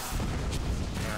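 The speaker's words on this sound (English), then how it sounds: "So, play an explosive trap." Explosive Trap triggering in a Hearthstone match, a dense booming blast that rumbles loud and close for about a second, no talking.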